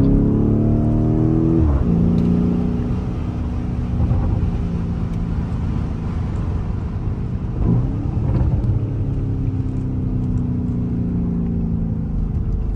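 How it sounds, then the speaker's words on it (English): A 2023 Lamborghini Urus Performante with its standard Akrapovic exhaust revs up twice in sharp sweeps, then settles into a deep, loud, steady idle rumble nearby. "Akrapovic comes standard for the Performante."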